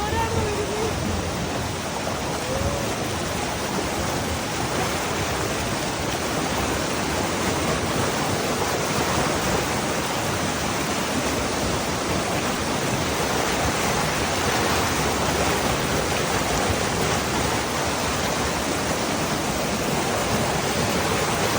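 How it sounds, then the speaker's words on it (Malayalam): A river in full flood rushes hard beside a waterfall trekking trail, a dense, steady roar of churning water filling the whole clip, loud and close with no break. "എക്സ്ട്രീമായിട്ട് ഫുള്ള് പുഴ ഒഴുകുന്ന പോലാണ്"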